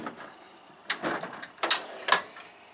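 A toolbox drawer full of blow-molded tool cases sliding and bumping shut: a few short rattling clunks and scrapes of metal and plastic, close by, with no speech.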